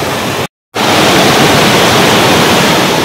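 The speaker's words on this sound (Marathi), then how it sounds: "धबधबा बघा किती जवळ आहे" A forest waterfall roars close by, loud and steady like rushing white noise, broken by one brief moment of silence.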